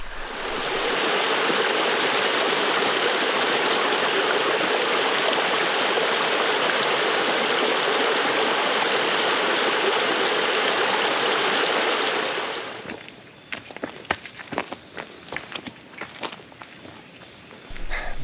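Steady loud rush of flowing water at a waterfall swimming hole in Arkansas's Ouachita Mountains, continuous for about twelve seconds, then dropping away to quieter scattered splashes and rustling footsteps.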